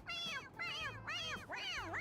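A cartoon cat in the Persona 5 video game meows four times in a row, drawn-out wavering cries repeated rhythmically over a quiet low hum.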